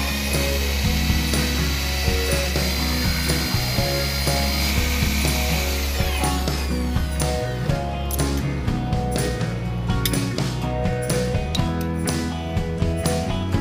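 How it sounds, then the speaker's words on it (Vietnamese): Steel drill bit boring a 5mm hole into the end of a C45 steel bar, a steady continuous grinding whir with rhythmic scraping pulses, loud and close with no talking. "mình sẽ khoan một lỗ 5mm trên đầu của đoạn thép."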